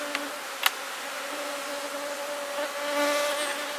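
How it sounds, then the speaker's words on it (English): A steady, droning hum of many honeybees buzzing close by inside a hive, with a couple of faint clicks near the start. "A lot of bees in here."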